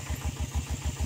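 An iron-wheeled tractor with a loud exhaust ploughs a rice field, its engine thudding in fast, even pulses, close and steady, with no talk.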